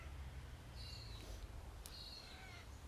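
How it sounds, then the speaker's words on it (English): Magpies call in a tree outdoors, a few faint, harsh chattering cries scattered over steady low wind rumble, with no one talking. "I can hear the magpies yelling, guys. There's like magpies in the tree behind me."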